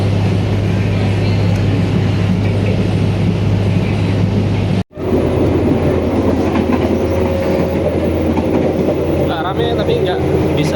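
BIAS passenger train pulling out of Sragen station, a steady loud rumble of wheels on rails with a low engine hum and a sudden brief dropout midway before the rolling noise resumes.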